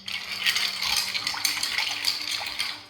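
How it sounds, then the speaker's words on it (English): Ice cubes clink and rattle continuously against a mixing glass as a liqueur cocktail is stirred, a close, bright, busy jingling with no talk. "Now we want to give our cocktail a stir."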